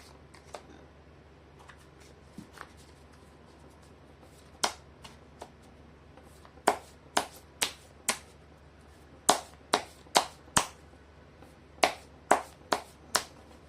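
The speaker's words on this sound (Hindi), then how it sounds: "कर लेती हूँ कार्ड की शफलिंग" Tarot cards are shuffled by hand in quick, crisp riffles and snaps, faint at first and then louder in clustered bursts, close up with no talking.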